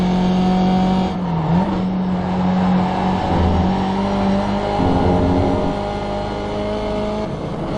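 A race car laps the Brands Hatch circuit with a loud, continuous engine drone heard close up from onboard. The pitch shifts as the driver works through the corner and changes gear, and no one talks over it.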